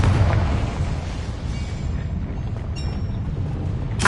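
Confringo explosive spell cast in a PS5 wizarding school game, a dense rumbling blast that fills the clip, with a sharp burst near the end.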